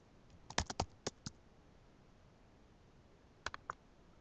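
Typing on a computer keyboard nearby: a quick run of six crisp key clicks, a pause, then three more taps, with no talking.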